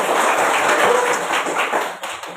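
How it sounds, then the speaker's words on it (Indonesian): Louder, sustained applause from an audience at an indoor classroom event, a dense steady wash of many hands clapping that thins out near the end. "Ulang lagi, yang semangat beri tepuk tangannya."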